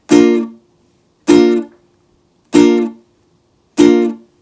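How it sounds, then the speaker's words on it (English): Four strummed ukulele chords, evenly spaced, each cut off quickly into short muted stabs by left-hand damping, with silence between them. "it's really simple to do left hand dampening or muting"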